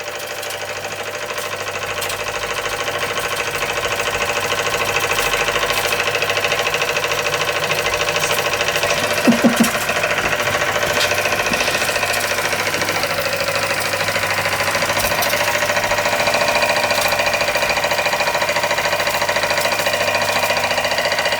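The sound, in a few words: Kassner vertical boiler model steam engine running under steam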